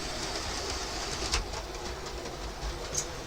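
A steady rushing, rattling rumble of a passing train fills the clip, with faint pigeon cooing and a couple of brief clanks over it.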